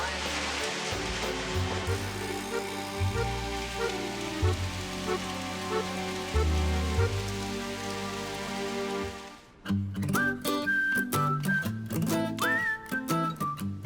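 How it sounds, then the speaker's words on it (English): Steady rain falls on an island during stormy weather, a continuous hiss under low engine-like rumble, then giving way to brighter sounds near the end. "So the rain has arrived"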